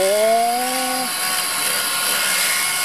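A power tool grinds down a custom mini truck body panel being shaped with epoxy putty and FRP reinforcement, giving a loud, continuous abrasive roar with a tone that sweeps briefly at the start.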